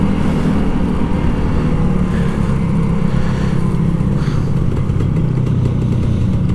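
A Kawasaki Ninja RR 150 two-stroke motorcycle engine runs close by, a loud, continuous buzzing drone with a rattly edge and little change in pitch, no voices heard.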